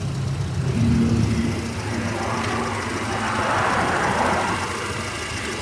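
A vehicle engine runs steadily at idle with a V-belt slipping out of its groove, producing a continuous mid-to-low rumble that swells slightly in the middle and later, close and alone without talk.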